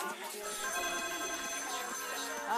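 Several mobile phones ring together near popcorn kernels set up for a popcorn-popping test, giving steady overlapping electronic ringtones throughout.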